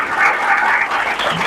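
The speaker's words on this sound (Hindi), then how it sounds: "तालियां बजाएं" A church congregation applauds during a Sunday sermon, a full, loud wash of many hands clapping together that holds steady for a short burst.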